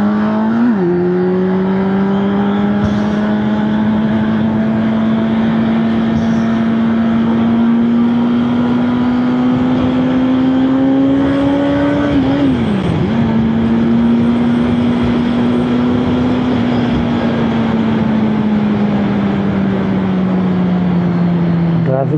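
A Kawasaki Z900 inline-four motorcycle engine while riding: a close, loud, steady drone that rises slightly in pitch and dips briefly partway through, as at a gear shift, then holds steady again.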